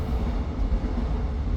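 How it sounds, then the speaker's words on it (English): A train passes near a house on a train line, a loud, dense low rumble that fills the short stretch steadily with no voices. "Sorry about the train."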